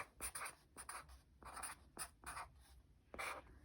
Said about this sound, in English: Let's write down the word Shrek.